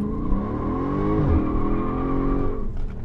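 Car engine revving hard under acceleration, a loud sustained roar with rising harmonics and a brief tire-squeal edge near the middle, fading into a dip at the end.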